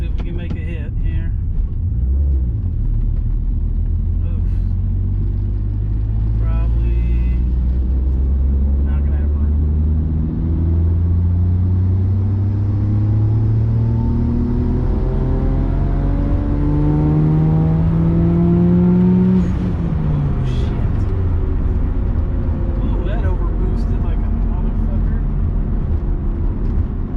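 A tuned Mitsubishi Galant VR4 engine on a dyno run roars loudly and close, its pitch climbing in repeated rising sweeps as it pulls through the revs under boost before dropping off near the end.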